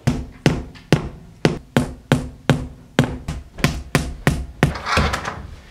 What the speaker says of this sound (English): Listen to the sweet sounds of Nathan hammering